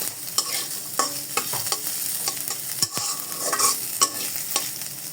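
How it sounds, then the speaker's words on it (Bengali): Ground spices frying on a low flame for malai chicken, soft sizzle under frequent spoon scrapes and taps against the pan, close and rhythmic, no talk. "এটা একদমই লো ফ্লেমে ভাজতে হবে"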